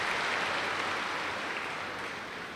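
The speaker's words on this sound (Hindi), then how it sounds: "तो अपने लिए ताली बजा लो अब।" Audience applauding itself at a spiritual gathering, a dense, even patter of many hands clapping together, moderately distant and steady without a break, with no voices over it.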